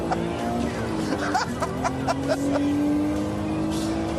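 A Noble M12 sports car engine drones steadily at moderate distance with one rising note, while voices and some laughter chatter over it.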